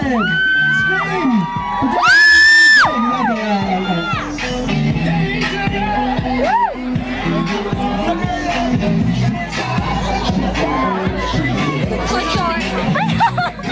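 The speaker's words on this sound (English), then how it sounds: "Cheer, I said. Scream." A prom fashion show audience cheers, whoops and screams in a loud, dense crowd roar that swells and sustains throughout, with a sharp whistle or shriek near the start and chatter mixed in.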